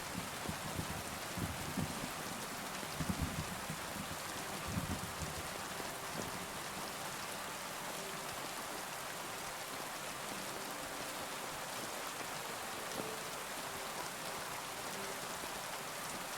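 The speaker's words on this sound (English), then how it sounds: "I don't think I've heard rain like this in a game before." Rain falling in a PC video game at ultra settings, a faint, even hiss of downpour that holds steady throughout with a few soft patters early on and no voices.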